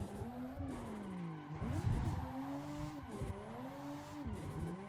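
A car in the Assetto Corsa racing game revs and slides under handbrake, with engine tones rising and falling and a continuous tire squeal and skid running steadily throughout at moderate level.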